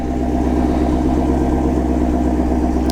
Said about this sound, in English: As you can hear, it has a pretty good rumble to her. I love this flat plane crank Voodoo engine.